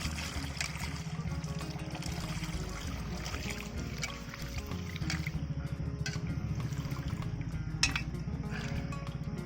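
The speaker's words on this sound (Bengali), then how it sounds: "এখন আমি ভালোভাবে পরিষ্কার করে ধুয়ে নিই।" Running water rinsing freshly cut pigeon meat in a kitchen, a steady trickling and splashing that continues throughout, with faint clinks and handling sounds mixed in.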